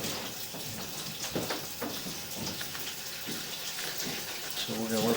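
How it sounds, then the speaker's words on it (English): Steady running water flushing through a drain line, a continuous splashing hiss with faint voices underneath. "So we're going to let the water run for a minute."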